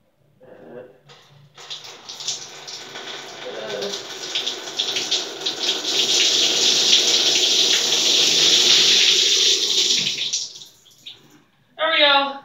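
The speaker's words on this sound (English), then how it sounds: "Now, I'm not going to dump it on my head. I'm going to pour it on my head." Water pours steadily over a person's head for several seconds, a broad rushing splash that builds and then stops, with a voice speaking briefly before and after.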